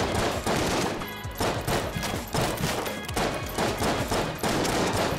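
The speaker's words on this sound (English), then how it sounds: "They're little grenades." Little grenades explode in rapid succession in the video game Enter the Gungeon, loud, dense bursts that pound in a fast, nearly continuous rhythm.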